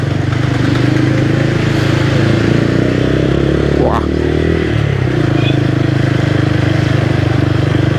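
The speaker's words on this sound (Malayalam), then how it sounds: "ഇത് തോണിയല്ല, സ്കൂട്ടിയാണ്." A scooter rides along a rough, broken road near Thannirpanthal in Vadakara, its engine droning loudly and steadily with rumbling road noise and a brief pitch sweep midway.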